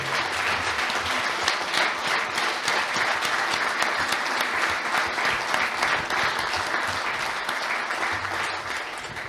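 Steady, dense applause from an audience at a municipal sports conference closing, continuous and fairly loud throughout with no talking over it.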